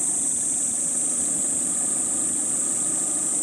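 A 1998 Toyota MR2 G-Limited engine idles steadily with a low, continuous rumble and a faint high-pitched whine, its idle hunting slightly.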